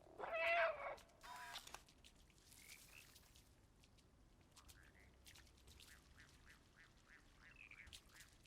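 A cat meows in the video game Stray, opening with one loud, close meow and followed by a run of quieter, short chirping cries over a low, hushed background.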